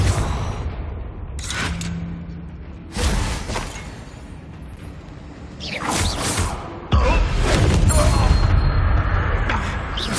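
Confringo blasting spell explosions in Hogwarts Legacy, a few sharp bursts and whooshes separated by quieter gaps, with the last blast loudest and sustained, and speech in the mix.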